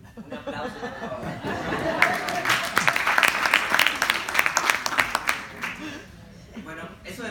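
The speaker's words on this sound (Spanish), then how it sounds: "Un aplauso, por favor." An audience at a school library project presentation breaks into applause, a crowd clapping steadily for several seconds with some laughter and chatter before it dies down.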